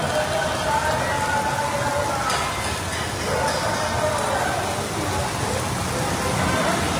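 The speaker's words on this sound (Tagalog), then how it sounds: "Malakas ang ulan" Heavy rain falls on a city street on Recto Avenue, a constant dense hiss of drops hitting surfaces, with faint voices and street noise in the background.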